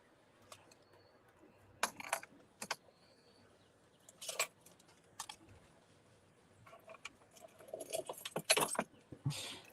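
Clicky keyboard typing in bursts of taps, mid-distance and moderately loud, with short pauses between flurries and a quiet room background.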